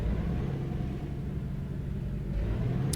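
A Kenworth K100E with a Cummins L10 engine in American Truck Simulator, a low steady diesel rumble winding down as the truck coasts to a stop, with no talk over it.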